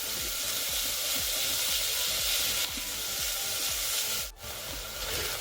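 Onions, jalapenos and garlic sauté in a hot pan, giving a continuous crackling sizzle with rhythmic scraping strokes of stirring throughout and a short dip near the end.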